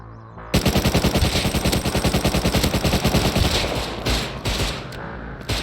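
Automatic gunfire from the video game Rust rattles out in one loud, rapid, continuous burst lasting several seconds, then breaks into a few shorter bursts, with no voices over it.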